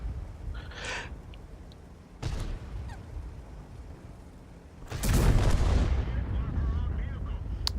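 Tank cannon shots from a Sheridan in the World of Tanks video game: a sharp report early on, then a heavy booming blast with a lingering rumble, over low background game noise.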